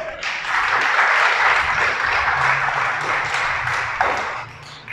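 A church congregation breaks into sustained applause, a dense wash of many hands clapping that swells and holds steady for several seconds before easing slightly.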